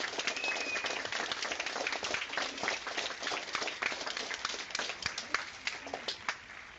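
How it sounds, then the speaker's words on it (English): Students clap and applaud together over a video call, a dense, muffled patter of hands through thin, compressed microphones that continues for several seconds. "give a warm round of applause to Pro Football Hall of Famer Mr."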